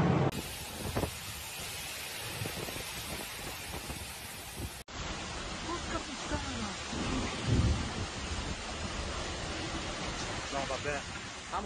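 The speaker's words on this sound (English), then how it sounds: "The storm, characterized by heavy rain, gale force winds" A thunderstorm with heavy rain over Sicily, with dense steady rain and low rumbles of thunder, a broad roaring wash that swells loudest briefly partway through.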